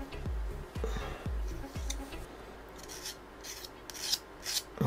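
A small screwdriver stirs a two-part chemical compound during a Honda VFR 1200 motorcycle project, starting with a few sharp taps on the container and moving into a close, rhythmic scraping and rubbing.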